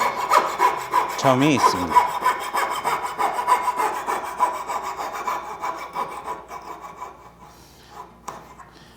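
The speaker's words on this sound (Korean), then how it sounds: "천천히 곡선을 그려가면서 잘라 주셔야 되는" Coping saw cutting a curve in wood, with steady rhythmic rasping strokes up close, a brief quick flurry early on, then the strokes soften and fade toward the end; a voice speaks briefly near the close.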